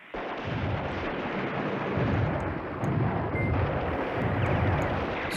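Artillery fire in the wargame Command Ops 2, set in the Allied Red Devils over Arnhem battle: a continuous, loud rumble of distant booming barrages that swells in waves for the whole stretch, with no voices.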